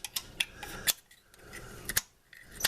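A scraper works at a glued-on gasket stuck to an engine part of a 1966 U-302 Super, giving repeated close, sharp scratchy strokes in an uneven rhythm with brief pauses between passes.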